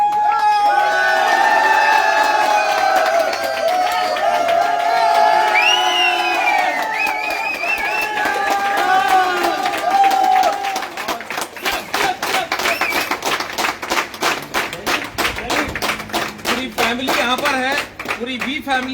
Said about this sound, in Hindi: मैं चाहूंगा एक बार शानदार ताली होनी चाहिए।